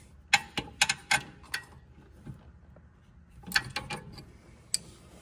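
A wrench working the rear brake bolts on a 2015 VW Jetta TDI gives off quiet metallic ratcheting clicks in two short clusters, separated by a near-silent pause.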